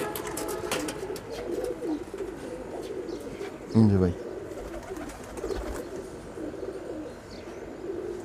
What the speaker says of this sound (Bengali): এই যে তার মধ্যে এই যে একটা কবুতর